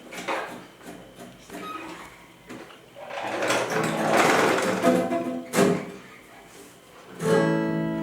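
Sewing machine stitching a homemade cloth bag, its motor whirring in bursts of varying length with brief pauses between runs, and a few soft handling knocks.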